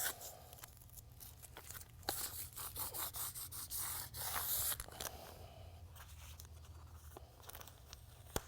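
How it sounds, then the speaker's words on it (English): Tape pulled away from a concrete surface before a microtopping skim coat, a steady close tearing and rubbing strip that swells and continues for several seconds, fairly faint with no voices. "Remove this tape."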